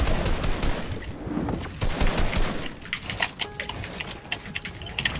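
Rapid overlapping gunfire from several enemy teams in Fortnite Chapter 5 Season 4 Reload ranked play, dense bursts of shots at varying distances crackling continuously with sharp loud reports.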